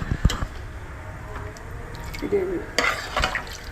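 Chickpeas being mashed in a pan for chole masala in a home kitchen, heard as soft squishing and stirring with a few light knocks and a faint sizzle, close by and with no talk.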